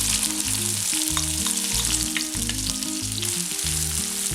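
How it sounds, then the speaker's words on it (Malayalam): Crushed onion frying in coconut oil for chicken mezhukkupuratti, a dense continuous sizzle and crackle heard close and loud, with some steady low hum underneath and no speech. "ഇനി ഇതിൻ്റെ അകത്തോട്ട് നമ്മൾ ചതച്ച് വെച്ചിരിക്കുന്ന ഉള്ളി ചേർക്കാം."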